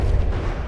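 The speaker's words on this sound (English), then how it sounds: "shots from the cannons" A warship firing its cannons in a naval video game, a single heavy deep boom with a low rumbling tail, loud and brief.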